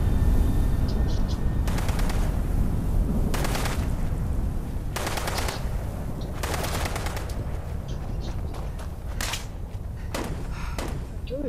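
Gunfire in Fallout 76: repeated bursts of automatic rifle fire in separate volleys, sharp and fairly loud, over a steady rumbling game background with players talking in between.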